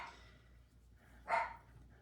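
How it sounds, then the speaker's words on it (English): Dogs bark outside, faint and distant, mostly one short burst partway through against a quiet indoor background. "You hear the dogs?"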